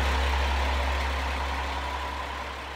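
A one-car local train idling at a station in western Honshu, Japan: a steady low engine rumble drones on continuously, loud and close, with a constant hum and no other sounds.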